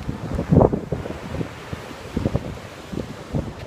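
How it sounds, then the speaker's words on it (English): Big ocean waves breaking at Wrightsville Beach, North Carolina in bad weather, heard as a low rumbling surge under strong wind buffeting the microphone, with a louder gust-like burst early on. "The weather's turned bad, but the waves are really big."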